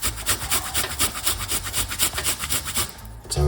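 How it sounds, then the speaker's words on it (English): A small piece of ginger is grated by hand, a close, loud rhythmic rasping of quick back-and-forth strokes that stops just before the end. "we're gonna just grate this little piece of a ginger"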